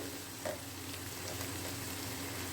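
Beef frying in a pan for a Thrissur-style dish gives a steady, even sizzle with a faint scrape of stirring near the start and no voices.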